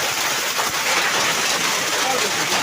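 A heavy hailstorm roars as a dense, unbroken wash of pelting noise, loud and close, with no pauses.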